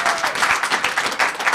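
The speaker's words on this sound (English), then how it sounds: "So thank you for the applause." Loud, dense applause from the audience at a town council meeting in Los Gatos, steady rolling claps filling the room with no pauses.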